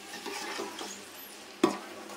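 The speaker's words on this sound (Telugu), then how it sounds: "సో ఒకసారి బాగా కలిపేసుకుందాం." Rice being stirred with gongura chicken in a cooking pot, a soft scraping swish with faint sizzle, ending in one sharper clank of the spoon against the pot.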